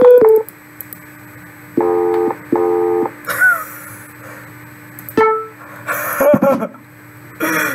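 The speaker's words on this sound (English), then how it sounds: "I'm gonna dial some random number." A phone in the video game Simulacra dials a number, giving a series of short electronic keypad tones in quick clusters, with a few louder bursts of game sounds between and after the beeps.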